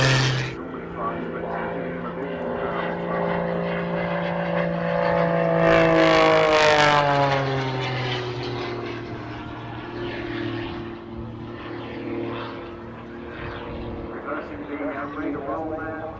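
A propeller aircraft flies aerobatics at the Southport Air Show, its engine droning steadily and rising and falling in pitch as it pulls up and pushes over, loud and fairly near, with a commentator talking over it.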